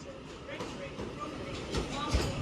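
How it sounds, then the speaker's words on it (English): A four-coach Class 331 electric train pulls out of Manchester Piccadilly station toward Alderley Edge, giving a steady rumble with faint rail clatter and squeal under the general platform ambience. "33112 railing off to Oldley Edge."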